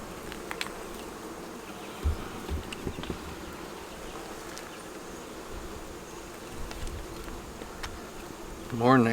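Honey bees buzz steadily around an opened beehive during an inspection, a constant moderate drone with occasional nearer fly-bys, faint handling knocks and a louder rustle at the end.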